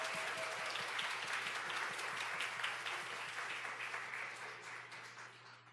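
A church congregation at a summer Bible school claps steadily in a dense, moderately distant burst of applause that slowly fades, with a low electrical hum underneath.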